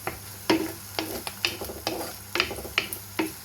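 Garlic, ginger and green chili stirred and fried in a pan, with repeated scraping strokes of a spoon roughly every half second over a steady low sizzle, close and fairly quiet.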